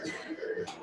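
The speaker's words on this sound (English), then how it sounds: "deep breath and cough out again" A patient coughs out forcefully during respiratory therapy with a mask on the face, giving a short, close, breathy cough burst lasting under a second.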